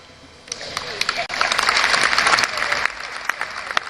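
Audience applause at a film festival closing ceremony, a dense wash of clapping that swells after a brief dip and carries on steadily, with some speech mixed in.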